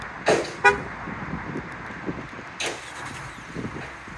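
2024 Ford Maverick XLT Tremor gives two quick horn chirps close together when locked with the key fob, followed by faint outdoor background and soft knocks.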